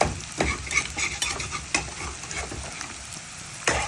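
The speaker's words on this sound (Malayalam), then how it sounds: "ഇഞ്ചി പച്ചമുളകും പേസ്റ്റ് ഇട്ടിട്ട് നന്നായിട്ടൊന്ന് ഇളക്കാം" Ginger and green chili paste stirred into hot coconut oil, a close crackling fry broken by scraping spoon strokes and a few clinks against the pan, no talking.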